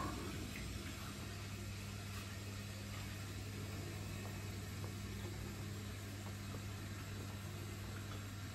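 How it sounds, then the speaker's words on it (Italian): Hot water runs from a tap into a bathroom sink, a faint, steady hiss of flowing water over a low electrical hum, with no talk. "mentre procedo anche a riempire il lavabo con l'acqua calda"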